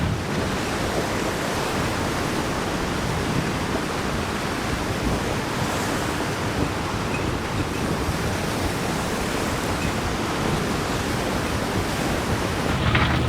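Wind and waves surround a sailing boat working hard at sea, a continuous loud wash of surf and gusting wind buffeting the microphone, steady throughout with no voices.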